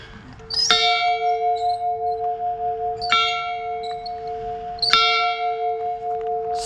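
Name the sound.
old plantation chow bell ringing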